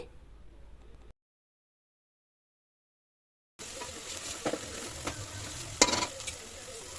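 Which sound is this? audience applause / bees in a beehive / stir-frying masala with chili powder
stir-frying masala with chili powder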